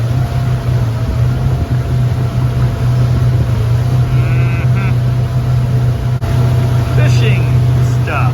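Engine of a 1976 SeaRay HT240 boat running steadily on the water, a constant low drone that continues throughout, loud and close, with brief faint voices partway through.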